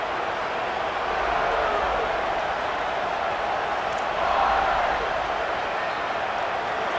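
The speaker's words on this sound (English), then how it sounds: "This crowd ready to make its presence known." Broad, steady stadium roar from a college football video game crowd, Kentucky hosting West Virginia, with a swell of cheering midway and no break for the full stretch.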